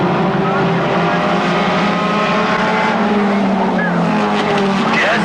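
Mini stock race cars roar through turn 2 at a short oval track, engines loud and close with droning revs sweeping past, under continuous announcer commentary.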